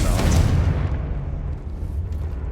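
The Confringo fire-blast spell from Hogwarts Legacy goes off in a tomb with a loud, close boom that rolls into a long, fading rumble. No one speaks.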